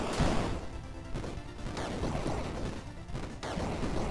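Gunfire from a boss in the indie action game Bleed, a rapid series of sharp percussive blasts and crashes with a couple of heavier impacts, dense and continuous with no voices.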